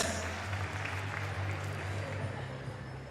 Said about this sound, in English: Big cheer for Herbie